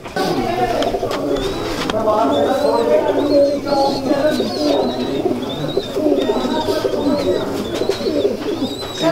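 Banka pigeons coo repeatedly at close range, soft rolling calls recurring throughout while people talk over them.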